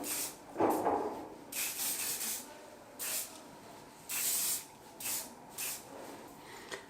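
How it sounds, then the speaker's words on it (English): Hairspray is applied to styled hair in a series of short, close aerosol bursts, about six hisses of varying length separated by brief pauses, with no talk. "and then put hairspray"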